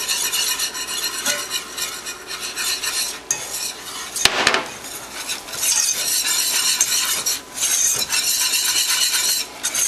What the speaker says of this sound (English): We're going to go ahead and add the flour here. I'm going to add a little bits at a time and whisk it up